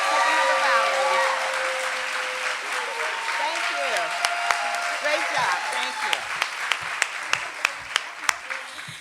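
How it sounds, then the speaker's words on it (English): A crowd claps steadily throughout, with a voice talking over the applause and sharp individual claps standing out toward the end. "So let's give them another round of applause."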